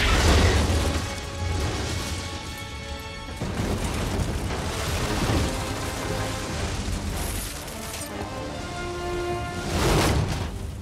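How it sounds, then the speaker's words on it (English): A Maverick missile strike blows up a bridge in a film action scene, giving a sustained roaring blast with crashing debris and rumbling bursts across the whole stretch. "Recommend using your Mavericks to take out the bridge."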